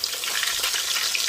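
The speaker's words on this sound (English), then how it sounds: "Now we're going over to the fryer and fry them." Balls of ice cream deep fry in grease heated to 350 degrees, giving a dense, steady crackling sizzle with fine bubbling throughout, heard close and alone.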